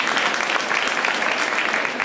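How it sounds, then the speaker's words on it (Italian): Audience applause at a vegan festival event in 2013, greeting a speaker as she is introduced; dense, steady clapping from a crowd, loud and continuous throughout with no voices on top. "Un applauso a Silvia Bianco"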